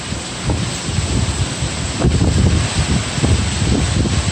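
Strong Hurricane Irma winds in September 2017 buffet the microphone outdoors near palm trees, making a loud, continuous roaring rumble with gusty surges and rough low-end thumping throughout, with no speech.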